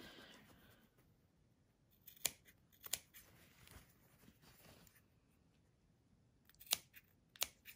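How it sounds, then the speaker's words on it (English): Scissors snip fabric at the bends of a cable-tie-reinforced face mask, giving sharp, crisp cuts in two pairs with quiet pauses between, close by and alone. "I just clip in a little bit to release some of the stress when you fold it over"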